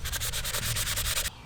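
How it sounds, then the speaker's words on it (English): Sanding block rubbed back and forth across a steel knife blade, about ten quick rhythmic rasping strokes, close and loud, stopping abruptly near the end. "So let's take the sanding block to it."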